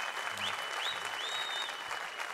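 A studio audience applauds Seymen folk performers with continuous, even clapping. A few thin whistle-like tones rise briefly above it, and the whole is heard from a modest distance.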